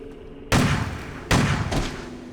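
A grenade in the horror video game Crow Country detonates as two heavy, booming blasts a moment apart, each loud and close with a rumbling decay.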